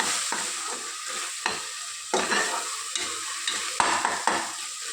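Mint and coriander leaves sautéing in tempering oil, a steady crackling sizzle broken by repeated spoon scrapes and stirs at irregular intervals, close and fairly loud with no voices.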